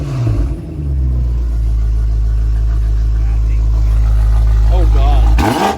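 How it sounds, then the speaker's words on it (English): A BMW M5 fitted with a full exhaust and downpipes, its deep engine rumble swelling into a sustained loud rev, heard up close, then cut off abruptly by a burst of noise at the end, with voices faintly under it. "Give it a rev."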